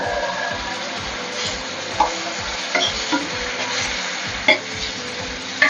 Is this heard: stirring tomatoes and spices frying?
yes